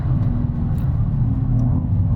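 A BMW M2 Coupe prototype engine hums with a deep, steady rumble as it picks up speed, smooth and sustained.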